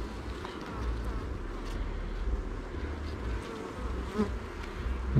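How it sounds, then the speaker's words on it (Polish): A honeybee buzzing close by during a beehive inspection, a continuous droning hum that swells and fades slightly throughout. "taka pszczoła wstrętna mi tu przyleciała"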